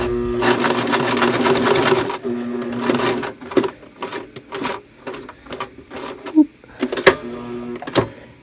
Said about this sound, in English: if you're not familiar with sewing machines, the sound is just this thing over here, which makes it go backwards